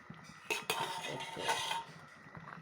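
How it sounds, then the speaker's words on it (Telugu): A metal lid clanks as it is lifted off a pot of tamarind fish curry, followed by a soft hiss of steam close by, with no voices. "మూత తీసి చూద్దాం"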